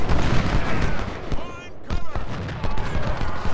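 Cannon fire in the Civil War strategy game Ultimate General, set at the Battle of Chickamauga, with sharp booming blasts and crackling volleys mixed with battlefield noise, while someone talks over it.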